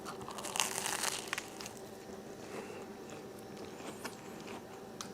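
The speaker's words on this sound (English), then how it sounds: "Nice crunchy bread." Someone bites into and chews a sandwich of crunchy butter-toasted bread with caramelized onion meatloaf and horseradish Dijonnaise sauce, making faint, close crunching and crinkling sounds with no talking.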